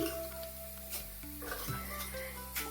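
Mustard seeds and dried red chillies temper in hot oil, a low, steady sizzle broken by a few light clinks of a spoon against the pan.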